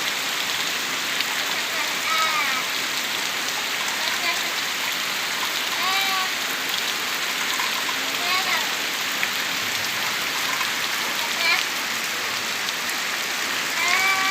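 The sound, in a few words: heavy rain falling with strong wind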